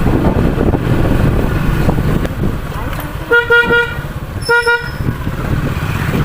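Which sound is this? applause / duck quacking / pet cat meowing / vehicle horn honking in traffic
vehicle horn honking in traffic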